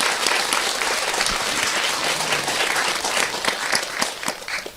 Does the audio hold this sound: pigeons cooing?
no